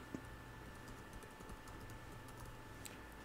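Keys tapped on a computer keyboard while a web address is entered, producing faint, soft, scattered clicks over a low steady hum.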